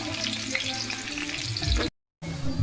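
Onions sizzle and fry in a pot of oil, about 600 g of them, for a duck meat curry, a steady dense crackle with stirring that cuts off briefly near the end and then resumes.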